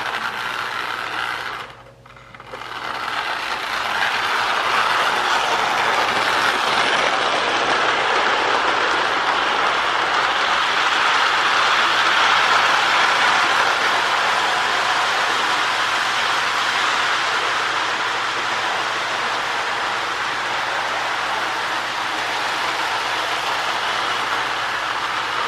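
Marx Megalodon toy train with a rebuilt E unit running steadily, a continuous mechanical whir and rattle of the motor and wheels after a brief click near the start, close and unbroken.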